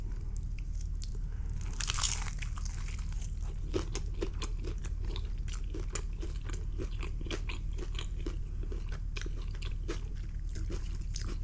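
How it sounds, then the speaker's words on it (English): Crunchy onion rings with garlic aioli being bitten and chewed close up, with an opening bite followed by a steady run of crisp crunches over a low background hum. "Let's dig into one of these onion rings. And try it with this garlic aioli sauce back here."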